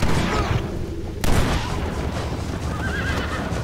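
Horses pulling a prison stagecoach in the video game Red Dead Redemption whinny loudly amid dense game noise, with gunfire-like booms in a busy, steady mix and no talk.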